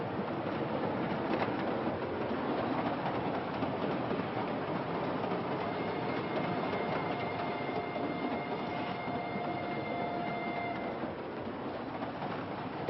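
A moving passenger train rumbles steadily with a constant rolling roar and faint high squeals, heard from inside a carriage.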